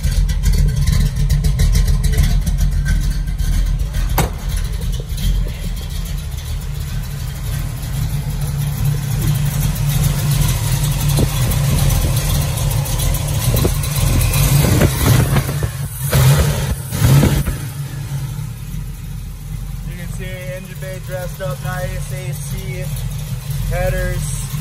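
An older car with a vinyl top idles on its own without choke, a steady low engine rumble with a lumpy cam lope and a few brief revs, while someone talks over it nearby.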